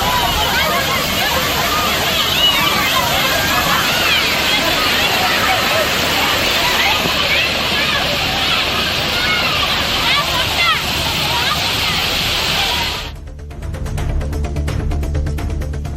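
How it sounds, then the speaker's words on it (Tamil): Kumbakkarai waterfall roars loud and continuous, with tourists bathing and chattering beneath the rush of falling water, until the roar cuts off abruptly near the end, leaving a quieter background. "இதனால் சுற்றுலா பயணிகள் அருவியில் ஆனந்தமாக குளித்து மகிழ்ந்தனர்."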